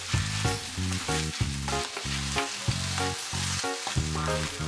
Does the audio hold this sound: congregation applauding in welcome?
no